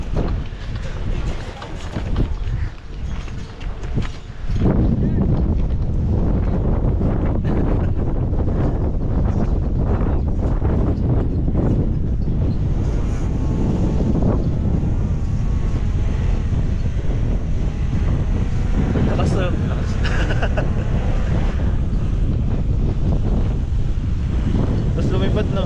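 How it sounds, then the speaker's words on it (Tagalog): Heavy wind buffets the microphone at a skyline view deck in Gregorio del Pilar, Ilocos Sur, in a constant loud roar, drowning out everything else, with brief lulls in the first few seconds. "Tignan niyo kung gaano kalakas yung hangin dito"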